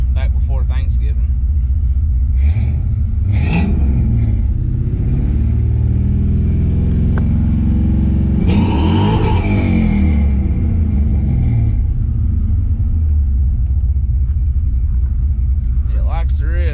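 A 2003 Ford Mustang GT with a stage 2 cam rumbles loudly up close, its engine swelling through a couple of revs and falling back to a lumpy idle, while someone talks over it.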